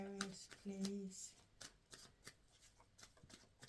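Oracle cards shuffled by hand during a tarot-style reading, a run of quick papery riffles and soft flutters, close and fairly quiet, with faint talk in the background.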